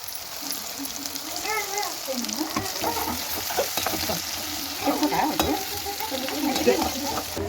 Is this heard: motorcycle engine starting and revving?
no